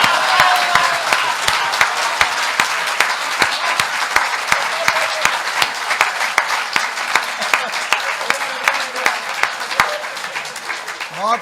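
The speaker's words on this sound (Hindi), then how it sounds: "बहन जी ने सबसे ज्यादा ताली बजाई है।" An audience at a Haryanvi stand-up comedy and poetry show applauds steadily, with a few sharp, distinct claps standing out over the continuous clapping while someone speaks over it.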